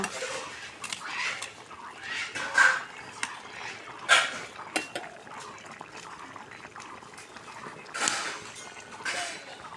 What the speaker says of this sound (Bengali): এবার আমরা আবারও ঢাকনা দিয়ে ঢেকে দিব